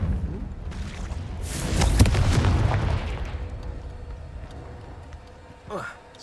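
A Confringo spell explodes in a Harry Potter magic video game, a loud booming blast that swells and fades over a few seconds, with a smaller burst near the end.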